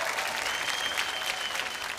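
A studio audience at a boogie woogie dance competition show applauds steadily, dense clapping filling the whole stretch at a loud, even level with no break.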